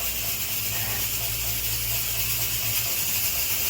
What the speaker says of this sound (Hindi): सीटी बजने वाली है कुकर में ज़बरदस्त तरीके से